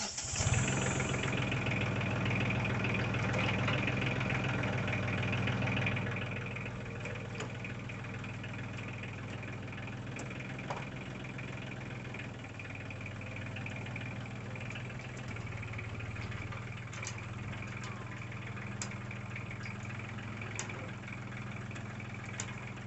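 A tractor engine idles at a pig pen foundation rebuild, a steady low rumble that is louder for the first six seconds, then settles into a quieter, even drone with faint knocks.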